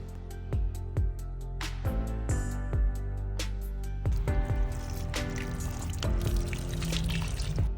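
Water poured onto potting soil prepared for Crossandra seeds, a run of splashing trickles and soft wet drips with short pauses between pours, close and fairly quiet.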